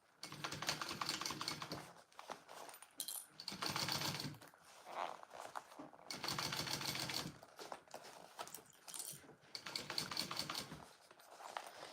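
A sewing machine stitches a piece onto a small bowler bag, running in loud bursts of rapid mechanical chatter of roughly two seconds each, with brief pauses between the runs.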